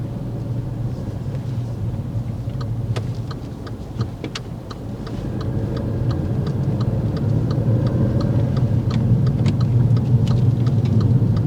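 A car's left turn signal ticks steadily while approaching a roundabout, faint regular clicks over a loud, constant engine and road rumble from inside the moving car.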